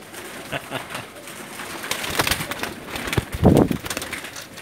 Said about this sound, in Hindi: बहुत ही प्यारे कबूतर है माशाल्लाह। ये देखें जी, बटेरा कबूतर है